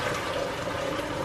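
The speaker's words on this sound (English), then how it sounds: "I'm gonna pour it into this pot and strain it with my handy" Homemade chicken stock for Louisiana gumbo is poured from a pot through a handheld strainer into another pot, giving a steady, continuous close-up splashing rush of liquid.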